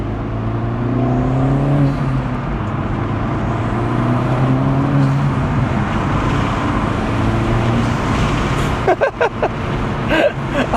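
A Honda Integra Type S DE5 fitted with a Sprint air filter drones and revs steadily up close for several seconds, its engine tone rising and falling, before a burst of short clattering sounds near the end.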